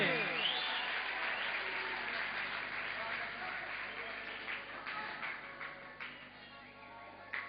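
A crowd at a community program gives sustained applause, a steady, fairly distant wash of clapping with a voice audible at the start, gradually thinning toward the end.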